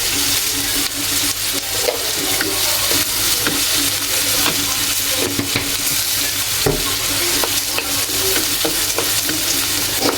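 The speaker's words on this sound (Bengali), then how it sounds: "কাঁচা পেস্টটা খেতে ভালো লাগে না এই কারণে একটু হালকা ভেজে নেবো" A bean and new potato mash paste lightly frying in a pan makes a steady, loud, close sizzle with continuous stirring and scraping throughout, and no voices.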